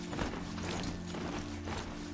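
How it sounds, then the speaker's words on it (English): The robot horse Strider gallops in Horizon Zero Dawn, giving a steady mechanical clip-clop of hoofbeats over a low droning hum, continuous and fairly quiet. "It makes horse noises"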